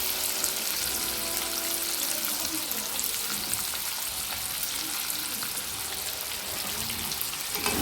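Potatoes and onion frying in a pan while being stirred, a steady dense sizzle with crackling throughout, loud and close, no talking.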